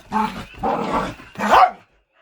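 Lively, playful barking from an energetic older dog, nearly eleven years old, with three loud close yaps and growly bursts in quick succession before falling silent.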